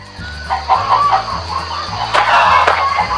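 Chickens being fed cluck and chatter continuously up close, with layered overlapping calls over a low rumbling background.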